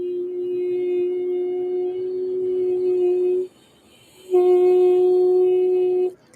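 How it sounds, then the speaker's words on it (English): A soft, steady voiced hum made by vocal folds at their smallest closure, held for about three seconds, a brief silence, then a second sustained tone a little higher, both even and close. "the smallest sound that my vocal folds can make as they come together"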